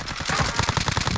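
Rapid gunfire from a multiplayer shooter game, a dense run of sharp repeated shots keeping a steady rapid rhythm throughout, loud and close, with no voices over it.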